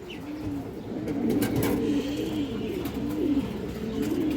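Healthy pigeons coo in a soft, repeated rolling rhythm close by, under a steady background hiss with a few faint clicks and no voices.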